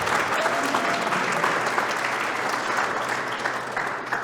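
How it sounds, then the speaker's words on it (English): Sustained crowd applause for a candidate's parents at a congressional campaign launch speech, a dense, steady wash of many hands clapping throughout at even loudness. "round of applause for them, please"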